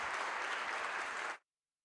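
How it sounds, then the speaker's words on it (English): An audience at a city health summit gives the mayors a dense round of applause that holds steady for just over a second before cutting off abruptly. "Please, could I have a big round of applause for Mayor Delgadillo, Vartanian, and Chintangala."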